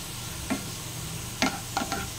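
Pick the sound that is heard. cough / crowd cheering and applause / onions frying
onions frying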